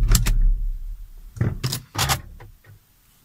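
Switching off a Porsche Cayenne 955 V8S brings a few short clicks and jangles from the keys and car controls, several sharp bursts separated by quiet gaps, close and fairly loud, fading at the end.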